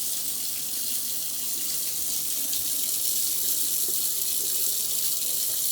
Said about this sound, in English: If you want, you can turn on some cold water.